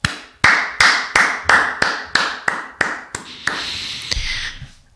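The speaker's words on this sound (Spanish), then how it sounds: "aplaudí al I Ching" One person claps alone in a steady, evenly spaced rhythm, about ten sharp, close claps, then a brief looser flurry before it stops.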